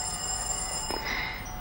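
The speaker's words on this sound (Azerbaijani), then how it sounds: "Nadia, telefona gəl." A telephone rings indoors in a dubbed romantic comedy scene, with a steady electronic tone and a brief brighter burst midway, and no talking.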